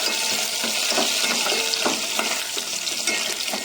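Fresh coriander frying in a pan as the first step of a Malvani prawn curry, a steady close sizzle with soft stirring scrapes running under it throughout.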